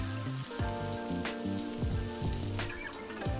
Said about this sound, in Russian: Обжариваем его несколько минут до мягкости.